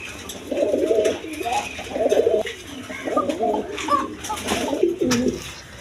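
A pair of red-marked King pigeons coo nearby in repeated throaty, rolling phrases against steady background hiss, with a faint voice speaking in the background.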